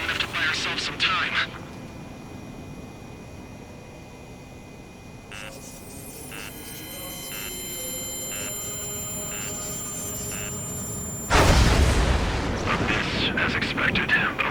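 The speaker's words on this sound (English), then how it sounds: "Some kind of energy weapon. No, it's a railgun." In the Ace Combat 7 flight game, a CFA-44 jet's cockpit hums with repeated warning beeps before a railgun shot erupts into a loud roaring explosion that lingers, with radio voices talking over it.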